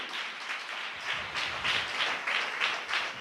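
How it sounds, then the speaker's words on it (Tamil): A church congregation claps in praise. Many hands beat in a loud, even rhythm of bursts that swells slightly as it goes on. "நல்ல கைத்தட்டி ஆண்டவருக்கு நன்றி சொல்லுங்களேன்."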